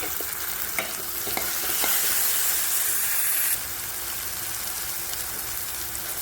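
Tomatoes and chili hitting softened onion in a hot pan, a steady close sizzle and hiss with a louder burst of steam partway through, then settling back to an even frying crackle with light stirring scrapes.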